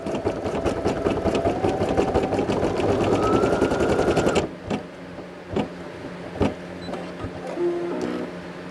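A Brother SE1900 embroidery machine stitches a hat with a loud, fast, even mechanical whir and rapid needle ticking, then stops and gives way to a few separate clicks and a short beep.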